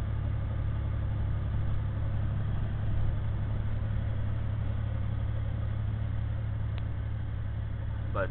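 A Honda CX500 motorcycle fitted with a Harley exhaust runs with a steady, loud, deep rumble that holds an even level throughout, with no clear revving swells.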